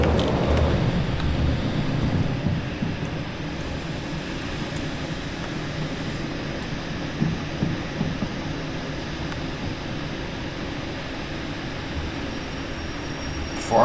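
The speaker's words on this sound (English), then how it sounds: "this train needs to slow down though" A train rolls along rails in the railway game Derail Valley, a steady loud rumble with faint rhythmic clicks of wheels over track joints, continuous and without talk.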